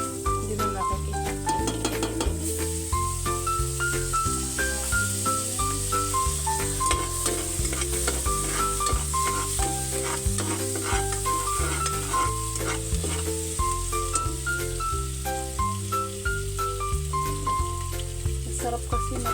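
Garlic sizzles and fries steadily in a pan for a sopas, with a spoon stirring and scraping now and then. The sizzle is close and continuous throughout, with no talking.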